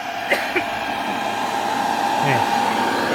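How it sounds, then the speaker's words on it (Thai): An electric fan runs with a steady whirring hum, loud and continuous, with a few brief clicks and knocks early on and faint movement sounds over the drone. "เสียงพัดลมครับ"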